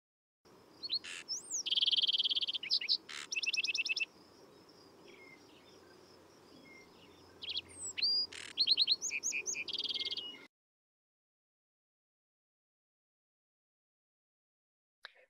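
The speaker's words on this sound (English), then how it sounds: "here's a lark sparrow from the open prairie" A lark sparrow from the open prairie of Colorado sings buzzy trills mixed with clear, bright notes in two bursts of song, then falls silent.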